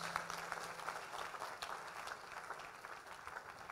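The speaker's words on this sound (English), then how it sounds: "Oh, clap your hands." A church congregation at a prophetic conference in Accra, Ghana claps along steadily, a dense, fairly faint wash of many hands with a low held tone underneath early on.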